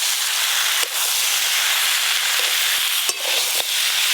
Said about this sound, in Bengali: এবার সব মশলা আর সব সবজি একসঙ্গে ভালো করে কষিয়ে নেব।